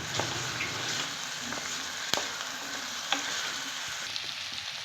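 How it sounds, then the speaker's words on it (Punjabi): A tadka sizzles for a dhaba-style yellow moong dal, a continuous dense frying hiss heard up close, broken by a few sharp pops and stirring clicks. There is no voice. "ਪੀਲੀ ਮੂੰਗੀ ਹੁੰਦੀ ਆ ਉਹਨੂੰ ਤੜਕਾ ਲੱਗ ਰਿਹਾ ਜੀ"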